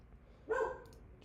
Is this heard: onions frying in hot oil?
no